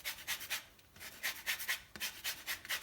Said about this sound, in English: I'm just going to use a microplane just to remove a little bit